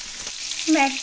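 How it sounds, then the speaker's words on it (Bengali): Potatoes sizzle and crackle in hot oil while being stirred and sautéed with salt, a close, steady frying hiss with a brief scraping stir. "এবার নাড়াচাড়া করতে থাকি, একটু কষিয়ে নিই।"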